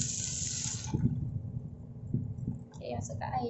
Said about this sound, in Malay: Dan kita masukkan air.